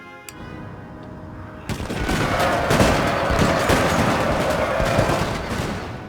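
Musket volleys and cannon fire in the Napoleon: Total War battle game, a dense, continuous crackle of gunshots that swells loud after a quieter opening, with no talking.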